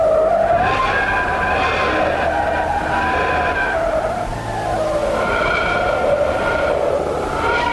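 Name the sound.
whistler waves recorded near the sun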